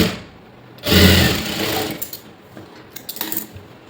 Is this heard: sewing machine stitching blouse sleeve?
yes